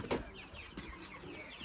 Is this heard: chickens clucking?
yes